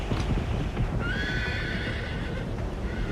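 Horses gallop in an action video game, with rapid clip-clop hoofbeats close by and a horse whinnying loudly partway through.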